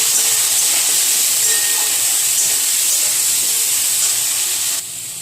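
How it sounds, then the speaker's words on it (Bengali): Potato pieces with turmeric and salt fry in hot oil, a loud, bright, continuous hiss and crackle that holds steady before dropping off sharply near the end, with no talking. "আলুটাকে খুব সুন্দর করে লাল লাল করে কিন্তু ভেজে নিতে হবে।"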